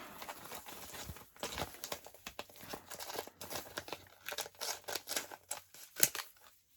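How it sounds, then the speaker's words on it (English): Scissors cut material for a travel-kit lap book, with a steady close run of snipping, rustling and crinkling handling noises over several seconds and no talk. "So let's maybe cut this a little shorter."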